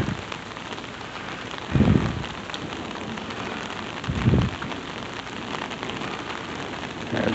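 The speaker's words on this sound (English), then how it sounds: "I like to share with you all the lightning and the thunder" Heavy rain pours steadily through a thunderstorm, with two deep rumbles of thunder rolling in partway through, loud and close against the constant wash of falling water.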